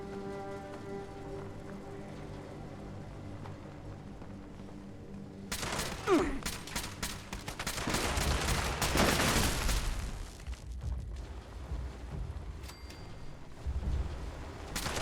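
In Fallout 76, the Overseer fires a small submachine gun in dense, rapid bursts that start midway through and crackle loudly for several seconds, then taper to scattered shots.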